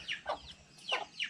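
Chickens cluck in a backyard garden, two or three short, close, fairly faint clucking calls in quick succession with quiet pauses between.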